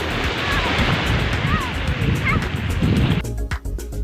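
Sea waves wash beside beach cottages on Mantalinga Island, a steady loud surf roar with wind buffeting the microphone, ending in a brief quieter moment.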